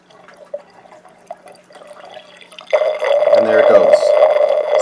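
Water trickles and drips into a small desktop aquaponics grow bed, then swells into a louder steady filling gush as the level rises, with no one talking.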